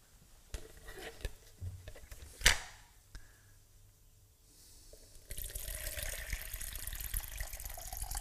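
Tap water runs steadily into a container while preparing brown bread dough, starting after some clunks and a sharp knock, loud and close, with no voices.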